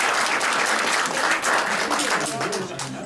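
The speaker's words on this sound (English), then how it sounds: "So I want everyone to give you a round of applause." Sustained audience applause at a talk on Alzheimer's, dense even clapping from a group throughout, with faint voices beneath.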